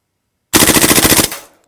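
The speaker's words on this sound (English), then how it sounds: "Full auto time? Yeah, let's see what kind of rounds per second we've got." A King Arms Colt M4A1 gas blowback airsoft rifle fires a single full-auto burst of about a dozen rapid, evenly spaced cracks, loud and close, ending in a brief tail after a silent start.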